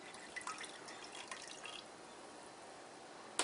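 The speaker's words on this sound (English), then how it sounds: "I am going to take the lipase mixed with the water. I'm going to pour it right into the milk." Lipase mixed with water poured into milk for homemade feta, a soft trickling and dripping pour that fades out partway, faint and without talking.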